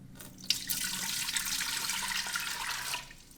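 Water streams into a pot as a steady splashing rush that starts abruptly, holds fairly loud for nearly three seconds, then tapers off.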